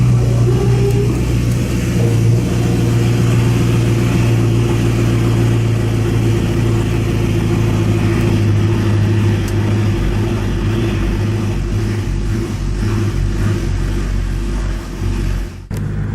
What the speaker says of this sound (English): it's something to do with the cold start, that it takes a while for the car to warm up